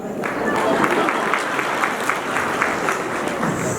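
An audience claps steadily at a dance production event after an introduction on stage, a continuous wash of applause with some voices mixed in underneath.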